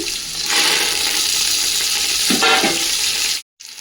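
Loud, steady sizzling of coriander, curry leaves and mint frying in hot oil, with a brief stir partway through before the sizzle cuts out near the end.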